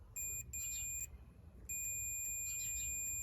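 Repeated high electronic continuity beeps from a multimeter testing a car starter motor's solenoid coil against the metal housing, two sustained tones separated by a short gap, clear over faint background hum.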